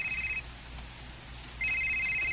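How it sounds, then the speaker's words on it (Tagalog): A cellphone rings with an incoming call, giving two bursts of a bright electronic ringtone separated by a short pause, clear and close against quiet room noise with no talking. "Mupalayo lagi dayon kung naay manawag sa cellphone"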